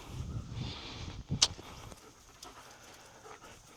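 A dog pants close by on a homestead with a skid steer, with quick breathy huffs early on and one sharp click in the middle. Then it settles into quieter background noise.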